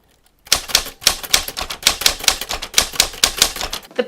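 A typewriter clatters close by after a brief silence, with rapid, sharp keystrokes in an uneven but steady rhythm for several seconds, loud and alone.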